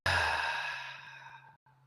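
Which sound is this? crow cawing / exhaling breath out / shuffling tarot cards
exhaling breath out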